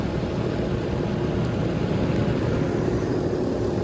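A 2005 Rheem Classic outdoor air conditioner unit running, a steady low broadband hum and fan rush with no variation, heard close up.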